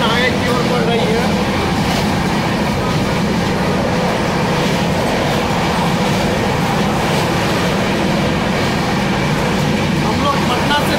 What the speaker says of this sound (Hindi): बहुत तेजी से ट्रेन आगे की ओर बढ़ रही है।